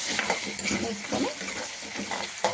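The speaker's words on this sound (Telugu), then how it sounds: "వంకాయ బాగా ఫ్రై అయిపోయిందండి" Green eggplant (vankaya) sizzling in a pan with turmeric, a steady close hiss broken by light clinks and scrapes of stirring.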